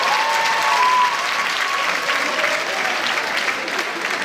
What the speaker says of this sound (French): Je voudrais qu'on les applaudisse, s'il vous plaît.